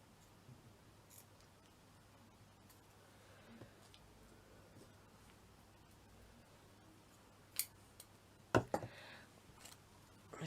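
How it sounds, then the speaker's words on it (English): Small scissors snipping pieces off while crafting a handmade miniature Christmas village, a few faint scattered snips and then a couple of sharper, closer cuts near the end in a quiet room. "So I'm just going to snip so many off."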